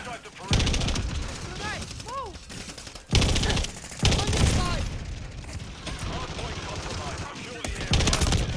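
Shotgun fire in a shooter video game, loud blasts and rapid bursts of gunfire with mechanical clicks, while a voice talks over the action.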